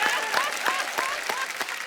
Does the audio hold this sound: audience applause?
yes